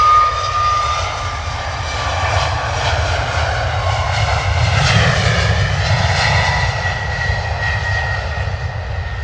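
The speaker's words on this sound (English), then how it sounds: "This departure is going to look beautiful going up into the sunlight." Airliner departing London Stansted Airport, a loud, continuous engine roar with a slowly shifting tone, steady and close for the whole stretch, no voices.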